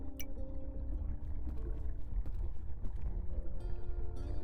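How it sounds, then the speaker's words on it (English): Water moves and sloshes in an RPG Maker horror game, a soft, continuous swirl with pouring and lapping textures and faint tonal ambience underneath. "Why does it sound like the water's, like, moving?"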